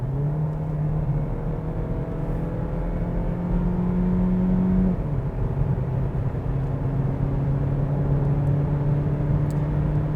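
Steady road noise and a low engine drone come from a 2020 Kia Niro Hybrid cruising at high speed, heard from inside the cabin, with a faint shift in the engine tone partway through and no talking.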